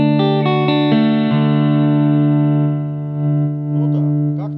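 A Music Man Axis Sport electric guitar played through effects, a few picked notes ringing into a sustained distorted chord that hangs and slowly fades.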